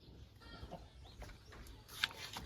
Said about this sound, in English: We have a few traditional chicken here.